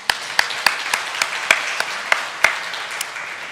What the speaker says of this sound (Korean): 영광의 박수 올립니다.